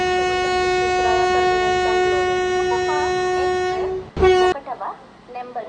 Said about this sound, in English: Train number 17205 is coming on platform number 5.